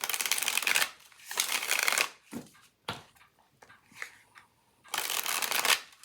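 Templar tarot cards are shuffled in several quick riffling bursts separated by short pauses and softer handling sounds, close up and fairly quiet.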